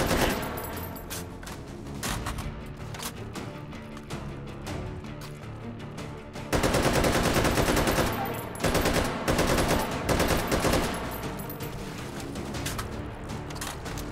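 Bursts of RPK machine gun fire in the VR shooter Hot Dogs, Horseshoes & Hand Grenades, a sustained loud rattle that gets louder and denser halfway through, with rapid continuous shots and short pauses between strings.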